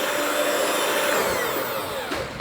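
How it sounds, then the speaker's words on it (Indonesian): An electric hand mixer whirs steadily as it beats dory fish dough with an egg for pempek, a continuous high motor whine that eases slightly toward the end. "Terus di mixer sampai dia mengental."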